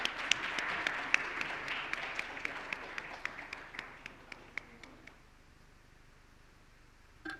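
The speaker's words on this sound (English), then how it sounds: "let's have a huge round of applause" An audience at the Outlook Indian Responsible Tourism Summit & Awards 2024 breaks into a round of applause, dense clapping that thins to sparse claps and fades out after a few seconds.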